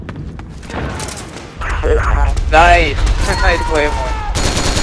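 Gunfire in the online shooter Metal Gear Online, with loud, close bursts of shots and booms in rapid succession and a brief spoken word over the action.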